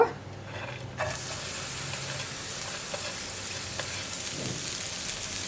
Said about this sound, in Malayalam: ഇനി നമുക്ക് ഈ വെണ്ടയ്ക്ക ഒന്ന് വഴറ്റിയെടുക്കാം